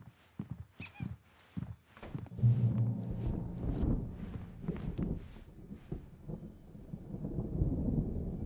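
Thunderstorm in the video game Alan Wake Remastered: deep, rolling thunder rumbles build into a loud, continuous roar with sharper cracks early on, heard alone with no speech.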